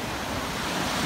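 Sea waves breaking on a beach in Barcelona, a steady broadband roar of surf with wind noise, continuous and fairly loud, building slightly toward the end with no speech.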